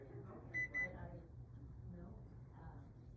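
Two short electronic beeps from a microwave oven keypad as it is set to 80% power for melting chocolate, heard early and close over a low background hum with some talk.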